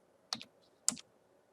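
Two crisp, separate keystrokes on a computer keyboard about half a second apart, close and clear against a near-silent room, while a password and PIN are entered.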